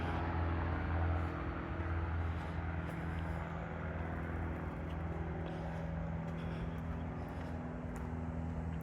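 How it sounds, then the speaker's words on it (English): A loud aircraft flying overhead outdoors, a steady broad roar with a low engine hum that holds for the whole stretch without fading, no voices over it. "that fucking plane or whatever it is loud up there"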